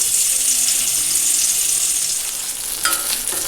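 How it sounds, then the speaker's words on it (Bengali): Teasel gourd (kakrol) slices frying in a pan in a home kitchen, giving a close, steady sizzle with a few clinks and stirring sounds near the end. "এখানে কাঁকরোল ভাজা হচ্ছে"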